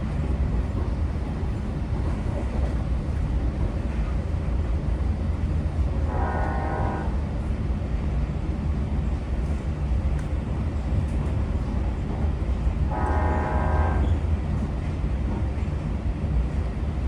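Long Island Rail Road DE30AC locomotive 413 sounds its Nathan K5LLA horn in two loud blasts, each about a second long, ringing above the continuous heavy rumble of the moving train.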